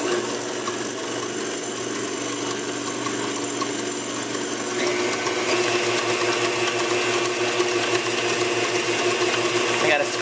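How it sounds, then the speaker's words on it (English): KitchenAid stand mixer blending pumpkin roll batter of flour and flavorings, a steady close whirring motor hum running throughout and growing slightly louder and busier midway, with no pauses. "Now we're going to blend these."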